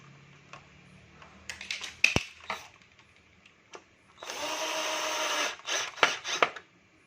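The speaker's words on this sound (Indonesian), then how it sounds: "biar ini tidak lepas, ini saya beri baut dulu satu" A power drill drives a bolt into an RGB eyebrow light on a Honda PCX 160 scooter, giving a steady close whir of about a second after scattered clicks and handling taps, then a few sharp knocks.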